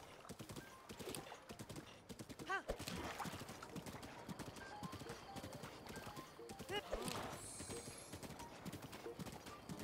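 A horse gallops in The Legend of Zelda: Breath of the Wild, its rhythmic clip-clop hoofbeats running throughout with an occasional snort, under someone talking.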